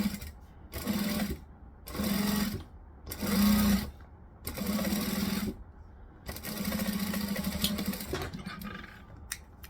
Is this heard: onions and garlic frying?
no